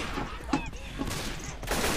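AK-47 gunfire in the zombie shooter Left 4 Dead 2, a few distinct shots spaced about half a second apart, then a denser burst near the end over a continuous game-noise bed.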